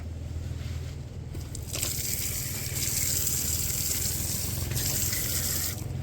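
Water runs and splashes steadily as feet are washed at a tap outside a Datta temple in Palshet, close and continuous with a heavier gush swelling partway through and a low background hum, no talking.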